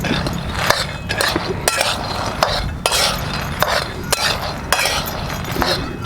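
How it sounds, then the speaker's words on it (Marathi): Peanuts dry-roasting in a pan for a fasting thali, stirred with a spoon so the nuts rattle and the utensil clinks against the metal in a loose, repeated rhythm, close and fairly loud. "आता आपण शेंगदाणे घालून छान असं आपण शेंगदाणे भाजून घेऊया"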